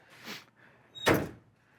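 A 1968 Camaro SS door swings and then shuts with a solid, close thunk; a softer movement sound comes first, then the firm slam, alone and quiet overall.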